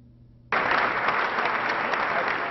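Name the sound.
applause in the state house chamber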